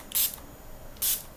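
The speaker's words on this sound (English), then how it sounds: "so I'm just gonna spray the bottle" A spray bottle of glycerin water mists a skincare product for a still-life photo shoot, two sharp hissing bursts about a second apart, close and loud against a quiet room.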